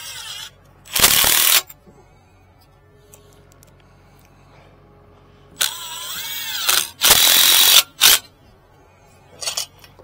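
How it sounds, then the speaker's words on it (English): Screws are driven into timber for a timber-frame dovetail joist in short, loud bursts from a power driver, one near 1 second and a cluster between 6 and 8 seconds, with quiet room tone in between. "I'll take a couple of screws. I'm gonna screw them into these."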